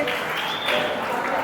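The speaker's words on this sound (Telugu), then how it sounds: "అందరు చప్పట్లు కొట్టండి" A crowd claps together in a brief, dense burst of applause that is close and fairly loud, with a voice faintly audible beneath it.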